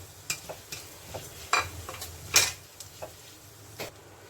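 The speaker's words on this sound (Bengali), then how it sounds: "এখন এখানে আমি দিয়ে দিচ্ছি এই যে জিরে, গোটা জিরে।" Whole cumin seeds with coriander hit hot oil for a pointed gourd dish, a quiet sizzle beneath repeated spatula scrapes and light metallic taps, spaced irregularly and close, without speech.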